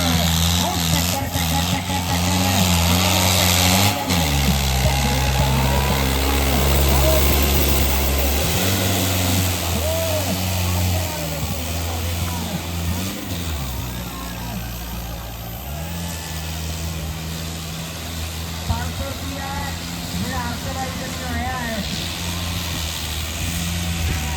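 Several tractors run loud and close at a tractor-trolley pulling competition in Bhai Desa village, their heavy diesel engines droning and revving in surges, with crowd voices and chatter mixed in throughout.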